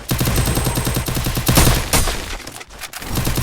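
Gunfire in a mobile shooter game: rapid, evenly spaced automatic shots rattle loudly and continuously, with a heavier burst midway and a brief silent gap before firing resumes.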